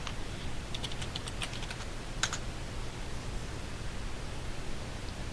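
A web address is typed into a browser on a keyboard, with a brief run of soft keystrokes and one louder tap, faint beneath a steady hiss of background noise.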